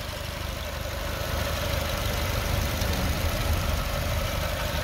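A 2007 Honda Jazz 1.4 engine with a CVT idles steadily, a close, even mechanical hum with a low rumble that holds constant throughout.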